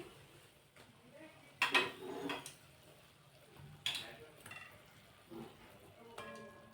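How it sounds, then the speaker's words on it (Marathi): Fried jalebi is stirred in sugar syrup in a pan. Soft metallic clinks and scrapes come in scattered bursts under a faint kitchen hiss, while someone talks quietly in between. "अर्धा मिनिटभरच आपल्याला ही जिलेबी पाकामध्ये दोन्ही साईडने अशी मिक्स करायची"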